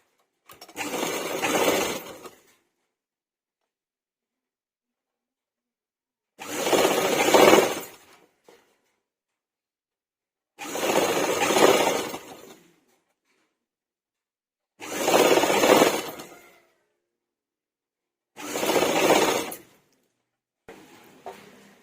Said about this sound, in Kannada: ಇವಾಗ ಇದಕ್ಕೆ ಸ್ಟಿಚ್ ಮಾಡ್ಕೊಳ್ಳೋಣ